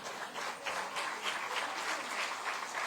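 A church congregation applauds together, a steady, dense wash of many hands clapping at close range with no voices on top.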